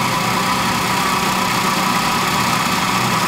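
A Bedini free energy generator motor runs at speed with a loud, unbroken whirring hum and vibration. It stays constant throughout, with no talking.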